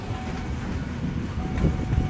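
An INKA CLI 226 KRL train rolls into Probolinggo station, a low continuous rumble of wheels on the rails with faint clicks and rising motion toward the end, and no talking.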